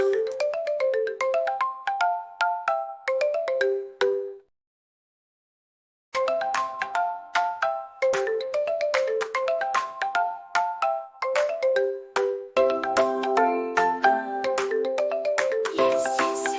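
A ringtone-like electronic bell chime plays repeated melodic ding phrases at a steady pace, drops into silence for about two seconds, then resumes louder and fuller, with no speech.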